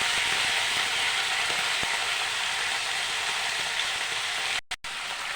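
Vegetables fry with a little salt in a pan before eggplant goes in, a steady close sizzle with faint stirring scrapes and a brief break near the end.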